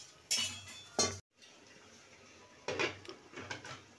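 A lid is set on a cooking pot while making steamed hilsa with coconut, producing two sharp metallic clinks a moment apart, followed by quiet kitchen background and faint handling noise.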